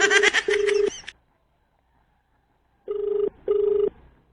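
An outgoing phone call to customer service rings back twice with pulsing tones, each burst about half a second long, then goes quiet before two more pulsed rings. No one speaks.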